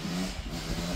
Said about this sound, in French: c'est les jeunes en moto, ils passent souvent